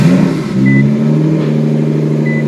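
A tuned Nissan GT-R sits idling just after start-up, its engine holding a steady, close, even hum with no revving.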